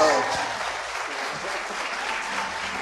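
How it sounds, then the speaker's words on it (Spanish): Applause from a church congregation at a Sunday service, steady dense clapping filling the whole stretch, with faint voices mixed in. "Un aplauso."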